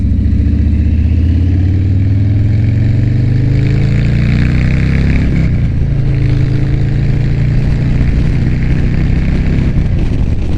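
Motorcycle engines at a bike night on Clematis Street in West Palm Beach, a loud, close rumbling idle rising into revs with shifting pitch and a busy street background.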